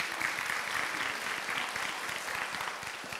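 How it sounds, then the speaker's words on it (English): Conference attendees give a steady round of applause, a dense, even clapping from a room full of people that holds without pause throughout. "Give yourselves a round of applause"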